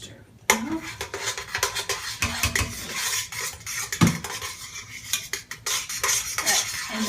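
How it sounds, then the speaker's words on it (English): A spoon stirs milk into a melted mixture in a pot for mac and cheese, giving continuous close scraping and clinking against the pan with a faint sizzle underneath. "Stir the milk."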